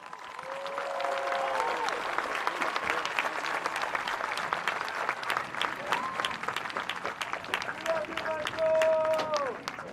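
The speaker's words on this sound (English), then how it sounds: "Honor guard guests, please stand for a round of applause." High school commencement crowd applauding honor guards, a broad sustained wash of clapping that swells and stays steady, with scattered voices and brief whoops above it.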